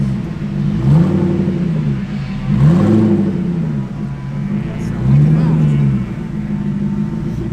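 A Koenigsegg CCX Trevita hypercar at an outdoor car festival, its engine revving up and dropping back three times, loud and nearby, with people talking over it.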